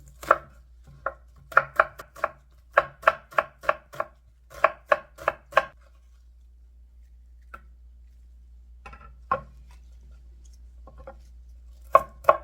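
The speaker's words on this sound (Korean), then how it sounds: "양파 반 개를 조금만 다져서 넣을 거예요." Half an onion is chopped with a knife on a cutting board: quick bursts of crisp, close knocks in rapid rhythm, then a pause and a few scattered final chops, with no talking.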